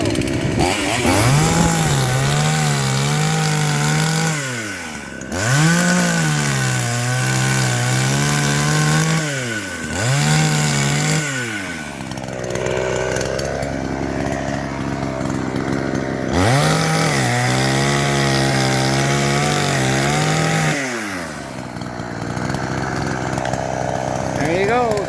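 A chainsaw cuts down an old fruit tree, the engine revving loudly in repeated rising and falling bursts as it bites into the wood, with short pauses at lower idle between cuts; a voice is heard speaking during the pauses.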